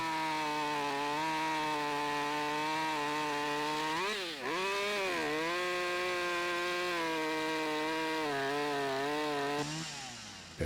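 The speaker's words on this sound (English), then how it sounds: "I think I'm going to just cut it with the chainsaw." A chainsaw in Lumberjack Simulator cuts through a log: a loud, steady buzzing drone that dips briefly as the blade bites in, then holds strong before trailing off at the end, with no talk over it.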